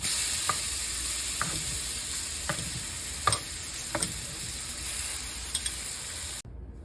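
Food sizzling in a skillet, a constant bright hiss with periodic clicks and taps from utensils, ending abruptly in near silence.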